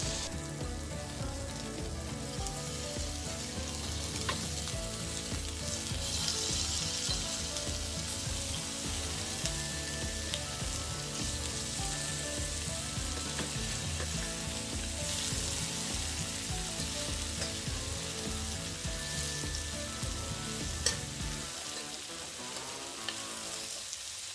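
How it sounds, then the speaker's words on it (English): Onions and mushroom powder fry with tofu in a pan, giving a steady, dense sizzle that continues for over twenty seconds before easing off at the end. "So we're gonna add onions to this, along with our mushroom powder."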